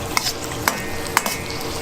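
Green onion and onion fry in oil until charred for Chinese chili oil, a continuous sizzle punctuated by three evenly spaced metallic clinks of a utensil against the pan.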